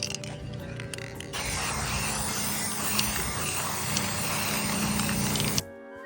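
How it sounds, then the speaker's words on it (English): Glass mirror spray paint hisses from an aerosol can onto the back of a plate outdoors, one continuous spray of about four seconds that stops abruptly, with faint rattles before it starts. "used a glass mirror spray paint to spray the back side of the plate"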